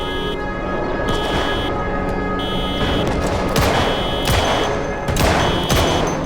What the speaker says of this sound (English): That guy is fucking shooting at us.